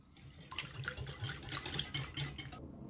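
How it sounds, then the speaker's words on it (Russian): Sifted flour being stirred into pancake batter with milk in a bowl: quiet, repeated scraping and clinking of a utensil against the bowl in an uneven rhythm, fairly faint and close, with no talking. "Постепенно добавляю просеянную муку и мешаю, чтобы не было комочков."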